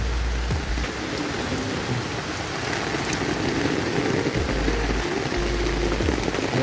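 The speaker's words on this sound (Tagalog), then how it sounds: "Ang lakas ng ulan," Heavy typhoon rain pours steadily during Typhoon Ramil, a dense continuous hiss close by, with occasional low rumbling thuds underneath.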